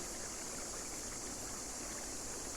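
Gentle, rolling water sound like calm waves lapping, a steady soft wash with a hissy texture, continuous and unbroken with no voices.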